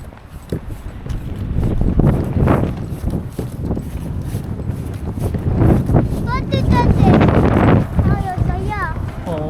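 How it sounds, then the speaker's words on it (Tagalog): Strong wind buffets the microphone in loud, rumbling gusts. People talk throughout, with some higher-pitched cries near the end. "Oh, ang lakas ng hangin eh."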